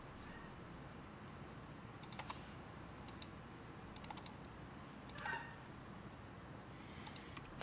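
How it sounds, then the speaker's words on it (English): Bird chirps from outdoors, faint and sporadic, sounding in several short bursts against a steady background hiss in a workshop setting. "Those sound like some birds Tuco would be interested in."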